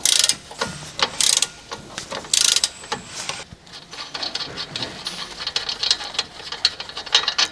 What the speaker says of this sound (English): Using the large 21mm long socket with the large extendable ratcheting wrench, remove the upper control arm ball joint retaining nut.